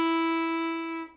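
A single sustained Irish fiddle note with a quick half cut, or sticky finger, ornament, the finger lifting as the bow pulls; one clear bowed tone, close and steady, fading out near the end, with no talking.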